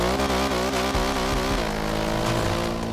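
A Honda CG 99 motorcycle on iFood delivery runs, its engine buzzing loudly and close with a pulsing rhythm, then dropping to a lower, steadier idle-like drone partway through.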